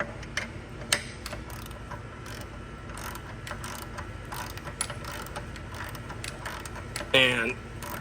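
A torque wrench ratchets bolts snug on an S10 truck, with quiet clicking ratchet pawl ticks and faint metallic clinks through a workshop background, plus one brief louder mechanical burst near the end.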